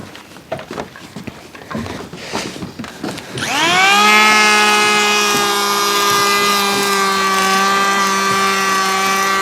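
Scattered knocks and rustling give way to a loud power saw whining steadily as it bites into a timber beam along a pencil line and keeps cutting.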